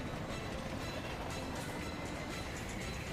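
Train running on tracks in an anime scene, a continuous, fairly loud rumble with rhythmic clickety-clack of wheels and rattling wagons, heard alone without talking.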